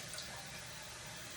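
Tap water runs steadily while a glass jar is rinsed out, a continuous close hiss and splash that stays at an even level throughout.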